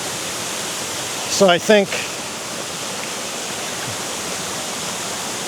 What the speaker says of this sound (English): Beautiful little waterfall.